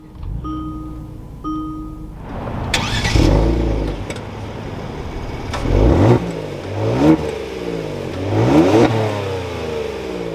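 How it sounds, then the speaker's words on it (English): A 2022 Kia Stinger GT2 AWD fires up after a few faint electronic chimes: the starter whirs, then the engine flares with a loud rev and settles, blipping a few more times near the microphone. "keeping my foot on the brake, we can go ahead and fire it up."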